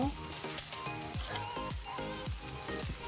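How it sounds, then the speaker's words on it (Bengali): Kochur loti (taro stolons) frying with masoor lentils in a pan, a loud continuous sizzle with rhythmic scraping strokes of a stirring spoon repeating about every half second. "লতি কয়টা দিয়ে আমি সারা করে নিব কষিয়ে নিব এক মিনিটের মতো"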